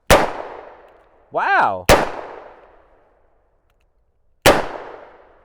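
Three sharp, loud revolver shots from a Taurus Tracker .44 caliber firing 180-grain .44 Special rounds, widely spaced, each with a ringing decay; a brief exclaimed voice falls between the first two shots.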